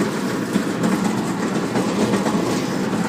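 A steady, broadband mechanical roar with a rumbling low end from a restaurant exhaust stack running constantly close by, no voices.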